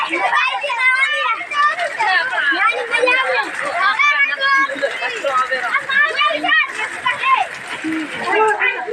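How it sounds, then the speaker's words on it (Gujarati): Heavy monsoon rain pours steadily in a dense, loud splashing wash from a first-of-season storm, with excited voices chattering close over it throughout. "ગાજવીજ ચાલુ છે વરસાદ ચાલુ છે"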